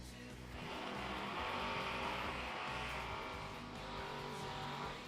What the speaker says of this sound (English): Burnout's officially underway, and here we go.